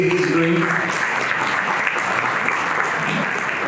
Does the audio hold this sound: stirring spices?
no